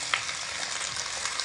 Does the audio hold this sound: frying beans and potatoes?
yes